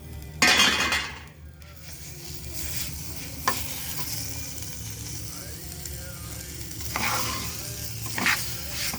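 Breaded chicken pieces drop into a hot pan and sizzle steadily, with clinks and scraping as they are stirred and moved about, close and continuous with no talking.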